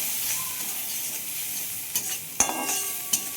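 Masala with coriander powder being sautéed in a pan for a duck egg curry, a soft steady sizzle with a few sharp stirring clinks of a spoon near the end.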